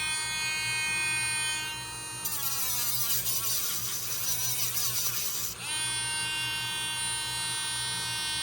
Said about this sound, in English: take this little grinder and put it on maximum.